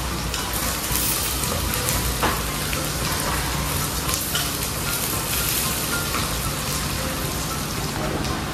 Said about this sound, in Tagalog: Prito natin yung sili para hindi ganun kahanghang.